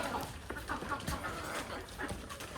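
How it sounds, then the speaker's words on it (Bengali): Free-range native chickens on a small poultry farm cluck and call at close range, with scattered short bird sounds over a low outdoor background. "মুরগিটা বাইরে থেকে ভিতরে দিলাম এই যে এই মুরগিটা বাইরে ছিল"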